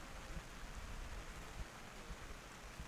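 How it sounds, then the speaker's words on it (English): Light rain falls during an Oman versus UAE cricket match, making a faint, steady hiss with no distinct drops or talk over it. "Rain becoming slight heavier."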